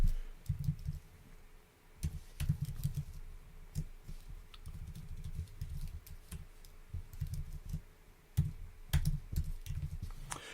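Text being typed on a computer keyboard, with bursts of close, light key clicks and taps separated by brief pauses, quiet and alone without speech.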